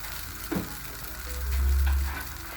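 Oil sizzles in a pot while chicken chaufa is being prepared, a close, steady crackle with a brief clatter early on and a swelling low rumble toward the end.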